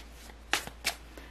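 Cards being shuffled and drawn for a card reading, a few soft close flicks and riffles of card stock in quick bursts over a faint background hum, with no talking.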